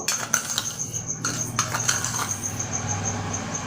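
A metal spoon scoops sugar from a container for a homemade face scrub, giving several light clinks and scrapes close by over a faint steady background hum.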